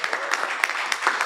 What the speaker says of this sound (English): A round of applause. We want one more.